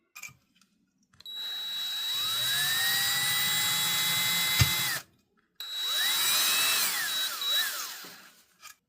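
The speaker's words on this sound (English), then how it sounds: "You can see here that I have drilled some holes. I just used a regular drill bit" Power drill with a regular bit boring holes in a cracked ceramic pot, a loud close steady whine with a high squeal that runs about four seconds, stops briefly, then starts again and winds down.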